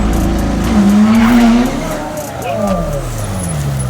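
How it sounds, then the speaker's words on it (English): A twin-turbo McLaren 720S sports car at a street race: an engine drone that rises and falls with a long tire squeal, heard fairly loud alongside someone talking excitedly. "twin turbo McLaren 720S right here"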